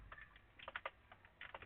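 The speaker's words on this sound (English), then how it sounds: "Let's just do the typing first." Quiet typing on a computer keyboard, soft irregular clusters of key clicks close by, short bursts with brief pauses.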